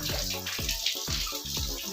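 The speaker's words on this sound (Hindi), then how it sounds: "यहाँ पर पानी का रसाव बहुत ज़्यादा है" Water seeping and trickling over the stone steps of Ranthambore Fort, heard close up as a run of quick splashing gurgles and pours recurring in an uneven rhythm.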